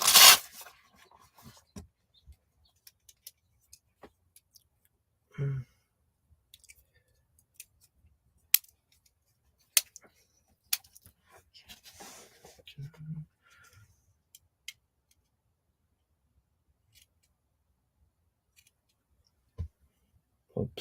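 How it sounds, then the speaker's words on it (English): Sharp scissors struggling to cut paper at a nature-journaling table, a few scattered close snips and rustles separated by long quiet stretches. "These are supposed to be really sharp scissors, but they're not cutting very well."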